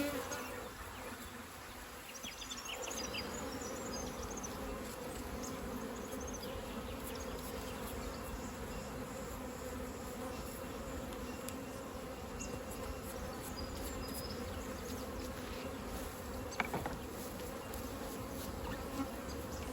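Honey bees swarm around an open beehive, filling the air with a dense, continuous buzzing drone that stays steady and close the whole time. A faint voice is briefly heard beneath it.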